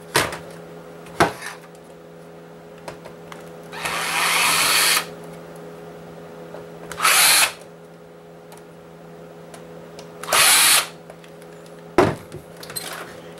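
A power screwdriver whirs in three short bursts as it removes small Phillips screws from a game console's Blu-ray drive, mixed with sharp clicks and knocks of parts being handled nearby.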